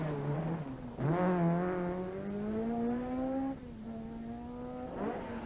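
A Ford Escort rally car charges up a rally stage, its engine climbing loudly through the gears in sustained revving pulls with a brief gearchange dip, close and strong, no voices over it.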